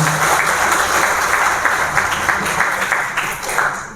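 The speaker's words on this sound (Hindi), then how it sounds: "मैं आपसे निवेदन करूंगा जोरदार तालियों से आप इनका अभिनंदन करें" Sustained applause from an audience welcoming a former Haryana government minister at a BJP office in Sirsa, dense steady clapping filling the hall for about four seconds with no talk over it.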